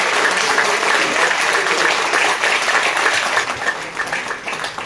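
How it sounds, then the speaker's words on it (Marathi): Loud, dense applause from a concert audience for singer Hemangi, steady and sustained across the whole stretch and easing slightly near the end. "एकदा जोरदार टाळ्या हेमांगीसाठी."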